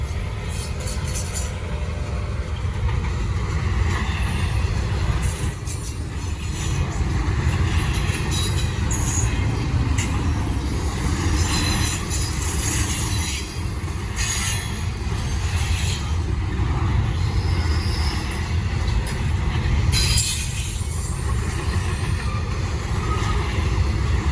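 A Norfolk Southern freight train with a Canadian National locomotive rolls past on the Charlotte District, a steady low rumble of cars and wheels with scattered high squeals, close and continuous for the whole stretch.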